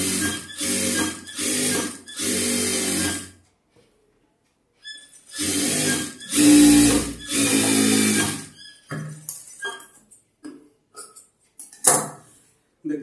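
Sewing machine stitching a blouse, running in close, loud bursts of rapid mechanical whirring separated by silent pauses, followed by scattered clicks and handling knocks of the machine and cloth.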